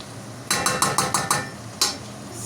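Spoon tapped several times against the rim of a cooking pot while adding a heaped spoonful of tomato paste, six quick metallic clinks in a steady rhythm followed by one more after a pause, close and clear.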